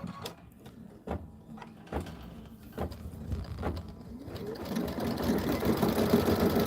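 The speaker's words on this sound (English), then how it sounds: "we're going to stitch that out" An embroidery sewing machine stitching out a design, with a few soft clunks early on, then a steady rising mechanical whir that grows louder toward the end.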